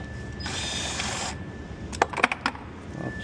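A ratchet wrench works on the 13 mm bolt of a Kia Forte battery hold-down, giving a short burst of sharp metallic clicks partway through a quiet stretch with no talking.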